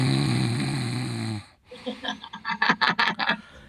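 A man asleep among carpet racks snoring: after a stretch of other sound, a run of rhythmic, raspy snores rises and falls in quick succession, fairly close and alone.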